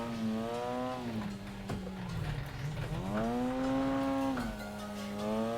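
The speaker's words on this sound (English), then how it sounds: "Burning this engine to the limiter." A Mazda RX-7 engine revs hard on a mountain touge road in a driving simulator, its steady, buzzing tone rising and dipping in pitch as the throttle holds high revs, with a brief tire scrub partway through.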